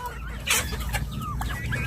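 Chickens clucking at afternoon feeding time on a farm, several close, busy clucks and short calls overlapping over a steady background.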